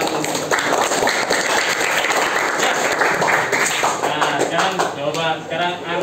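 Students in a fifth-grade Islamic religious education class clap together in a dense, steady burst that lasts several seconds, with voices mixed in and speech becoming clearer as the clapping fades at the end.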